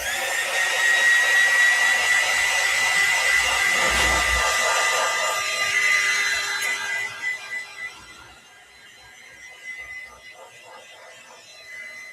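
A hair dryer blows steadily and loudly over a mixed media artwork for about seven seconds, then switches off, leaving faint background sounds.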